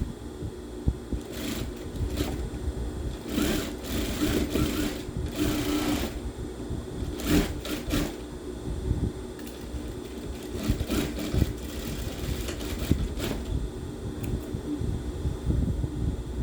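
A sewing machine runs in steady bursts, stitching the side seam of a simple circular (godê) skirt, with a close, continuous mechanical whirr and throb and a few brief pauses between runs.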